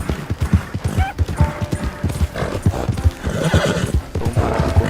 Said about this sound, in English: Vamos parar de correr aqui, senão o cavalo vai cansar muito.